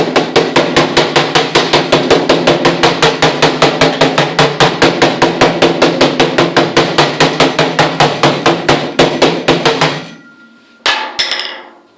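A hammer taps rapidly and rhythmically on a VW up! car door panel during dent repair, dozens of sharp, ringing strikes close by, then a brief pause and a few final knocks.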